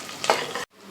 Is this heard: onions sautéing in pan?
yes